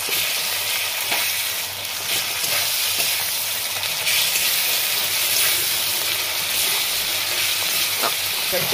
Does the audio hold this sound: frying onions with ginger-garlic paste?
yes